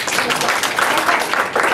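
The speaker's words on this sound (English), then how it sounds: "give me a clap" Workshop audience clapping on request, a short burst of brisk applause from a room of people lasting under two seconds.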